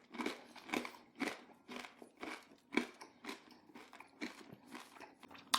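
Close, crisp crunching of a fruit-studded cracker topped with Tomme de Savoie cheese as it is bitten and chewed, a dense run of uneven crackly bites and chews at quiet volume, with no talking.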